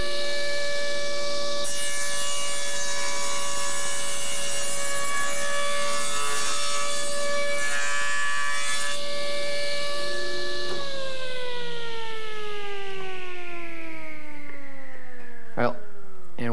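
A table saw cuts through wood to form the cheek of a half-lap joint, the blade whining with a steady high tone that holds, then drops in pitch as the cut finishes and the saw winds down.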